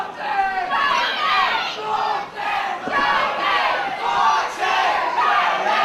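A wrestling crowd split between Jody Fleisch and Martin Stone, with loud rhythmic chants from the two camps rising in turns and a steady roar of cheering underneath.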